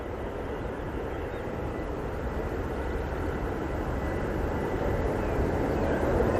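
A Lufthansa airliner taking off at Manchester Airport, heard as a continuous, deep roar of jet engines that holds steady and swells slightly toward the end.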